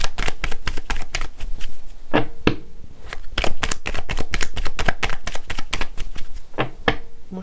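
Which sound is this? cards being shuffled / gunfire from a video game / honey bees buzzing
cards being shuffled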